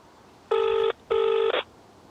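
Two buzzing ringback tones from a phone call, each under half a second, separated by a short pause; the tone is clear and close with no talking over it.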